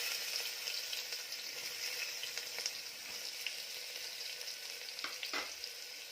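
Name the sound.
finely chopped onion frying in hot oil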